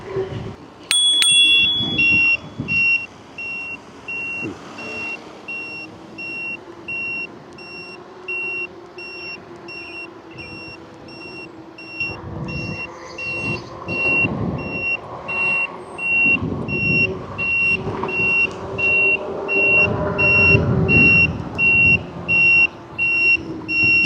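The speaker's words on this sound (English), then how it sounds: "Oh, that's my blinker." An electric scooter's turn signal gives a steady, evenly spaced series of high electronic beeps, repeating over the rumble of riding and wind noise.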